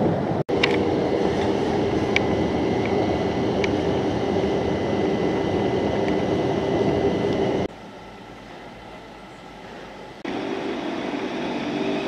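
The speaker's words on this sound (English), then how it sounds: "today I'm taking the train a few stops to Teddington." Passenger train riding a few stops to Teddington in southwest London, with a steady loud rumble of rail travel throughout, a sharp click near the start and a quieter stretch toward the end before the rumble returns.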